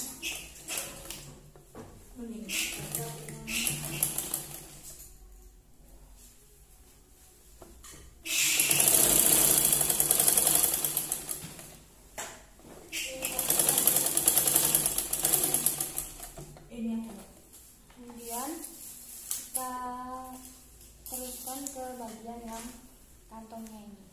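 A sewing machine stitches the triangular end of a welt pocket in quick mechanical bursts of running stitches, with a loud sustained run in the middle, while a voice talks over and between the bursts.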